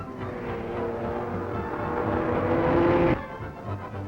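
A vintage pre-war Grand Prix race car rounds the banked concrete carousel of the Nürburgring with a steady, loud engine roar that holds and then drops off abruptly.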